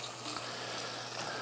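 Vegetables sizzle quietly in a gumbo pot for a brisket, shrimp and sausage gumbo as they are stirred, a soft, even hiss that stays faint and continuous with no voices.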